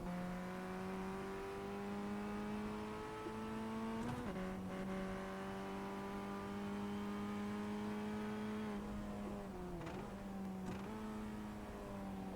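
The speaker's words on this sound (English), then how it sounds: "I'm sitting in a virtual race car." A Formula Ford open-wheel race car laps Okayama in a racing video game, its engine droning steadily at high revs with brief dips and shifts around corners, continuous and close throughout.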